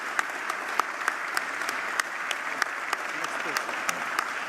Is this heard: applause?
yes